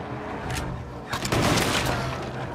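Dense video-game gunfire in Little Nightmares 2, a steady volley of loud overlapping shots and booms that swells midway through, with no talk.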